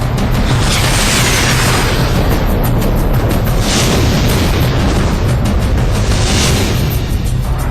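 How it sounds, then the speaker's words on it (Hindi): Missiles and bombs exploding in news footage of an air strike, a dense continuous roar of booms and blasts with several louder swells, loud throughout with no talk. "आसमान से बरसती इन मिसाइलों और बमों ने धरती पर कैसा विध्वंस मचा रखा है"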